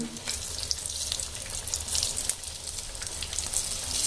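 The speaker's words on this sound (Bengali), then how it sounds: "আপনার সব করে লঙ্কা এভাবে ভেজে নেবেন" Chillies frying in oil in a pan for Bengali chilli chop, a steady close crackling sizzle with watery hiss running through all four seconds, no talking.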